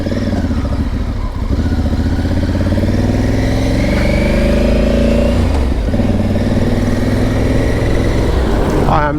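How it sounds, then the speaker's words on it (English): Steady motorcycle engine drone while riding on a road in sunshine, a loud continuous hum with shifting pitch as it accelerates, with a voice talking over it. "I am loving being back on the bike in the sunshine again."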